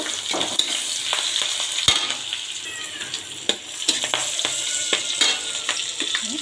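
Turmeric and chopped green chilies sizzle steadily in hot oil, a continuous bright frying hiss with scattered stirring clicks and scrapes, close and fairly loud, no voices.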